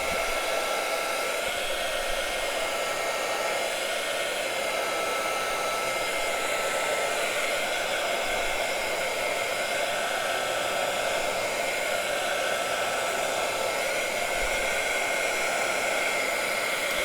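A heat tool blows a loud, steady whooshing hiss for a long unbroken stretch while drying thick paint on a craft journal page, close and alone.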